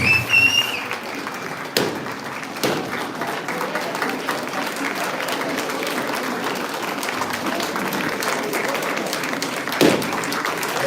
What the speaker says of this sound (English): Let us all, with a standing ovation, give us again the clap.